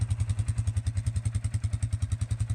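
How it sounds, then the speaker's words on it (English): An ATV engine idles as it warms up outdoors before a ride, a close, steady low putter of rapid even thumps with a slight mechanical clatter, no one talking. "there's the ATV warming up"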